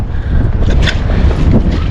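Strong wind buffets the microphone in loud, rumbling gusts with bursts of hiss, close and continuous for a couple of seconds, at sea while fishing.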